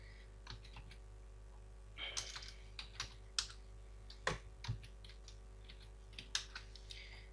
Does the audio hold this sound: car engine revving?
no